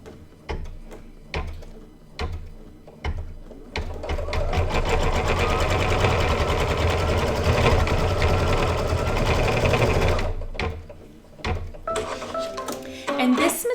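An embroidery machine stitches a placement line in fabric, opening with short separate bursts of needle chatter that become a sustained rapid whirring run, then stopping and starting again in brief spurts, heard close up.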